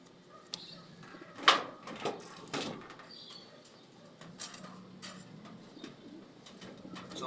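Pigeons kept as flying birds give soft, throaty coos, repeated at close range among scattered rustles and a few sharper knocks, with no voices.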